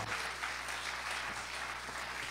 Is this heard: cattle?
no